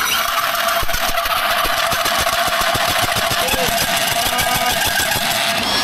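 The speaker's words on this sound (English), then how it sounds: "This might be the hardest thing this Milwaukee drill's ever had to do." A loud, steady mechanical whine and grinding churns continuously, with rapid rattling pulses throughout, as a Milwaukee power drill strains to bore into a steel safe.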